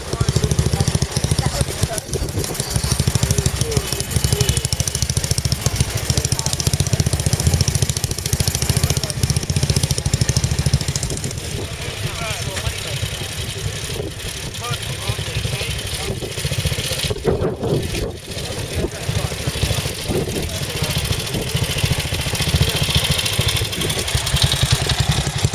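A vintage Lagonda 2 litre twin overhead cam car engine runs nearby at a steady idle with clattering mechanical texture, continuous through the stretch, with a public-address commentator talking over it at an Edwardian air pageant.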